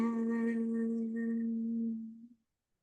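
A person hums a single steady low note for about two seconds during a breathing exercise, close and clear, then it fades out into silence.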